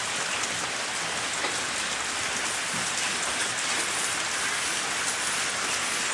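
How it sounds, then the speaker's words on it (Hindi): Heavy rain pours down steadily on an Indian homestead after falling since morning, a loud, even hiss of drops hitting the ground with no let-up and no voices. "सुबह से बारिश हो रही है"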